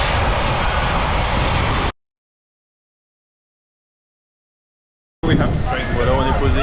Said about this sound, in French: C'est le 747 qui a atterri.